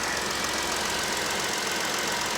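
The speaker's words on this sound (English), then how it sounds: "You can hear the engine." A car engine at a salvage auction lot idles steadily with the alternator charging, giving a continuous, even mechanical hum with no talk over it.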